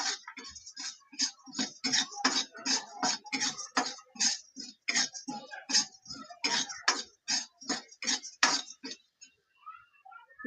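Chana dal dry-roasting in a pan over low gas for tilgul ladoo, with a steady run of close, rhythmic scraping and light clinking as a spoon stirs the lentils against the metal, about two strokes a second, fading out near the end.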